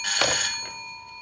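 A telephone rings with a sustained bright tone that fades gradually, heard alone and fairly loud at first before tapering off.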